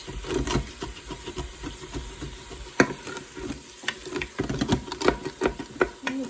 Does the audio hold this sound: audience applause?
no